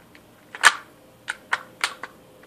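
Mechanical clacks come from working the bolt of a tan KWA Kriss Vector airsoft gun. One louder snap is followed by several lighter plastic-and-metal clicks in quick succession, close up and with no talking.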